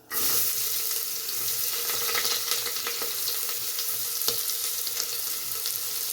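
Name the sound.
onions frying in oil with mustard seeds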